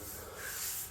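Steady abrasive rubbing, a continuous dry scratchy hiss of sanding body filler on a Holden HQ One Tonner ute tray, close and fairly quiet with no pauses.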